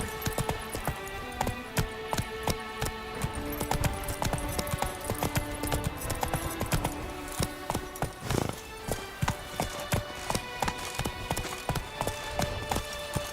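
Roach, a horse in The Witcher 3, gallops with a steady rapid clip-clop of hooves over a busy game soundscape, the hoofbeats continuous and fairly close throughout.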